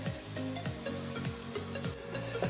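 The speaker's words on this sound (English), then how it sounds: "Now let's fry this on a medium flame for about 1 minute." Chopped onion with cumin seeds frying in two tablespoons of oil on a medium flame, a steady close sizzle with soft stirring scrapes, heard alone without talk.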